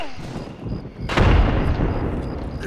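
A grenade explodes in the video game Escape from Tarkov with a sudden loud, deep boom that rolls into a long rumbling tail, following quieter gunfire-like ambience.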